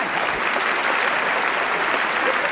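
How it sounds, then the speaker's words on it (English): Dense, steady applause from a crowd at a pub-style quiz night greeting a returning contestant, a continuous wash of many hands clapping at once with no break throughout. "We have Pat Heffernan, a round of applause for Pat Heffernan there."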